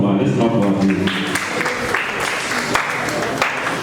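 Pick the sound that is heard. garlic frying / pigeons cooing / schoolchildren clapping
schoolchildren clapping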